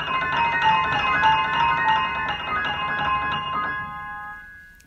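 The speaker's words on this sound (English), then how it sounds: "Some make high sounds." Piano playing a quick run of high notes that ring and sustain, then fade out into silence, clear and alone with no voices.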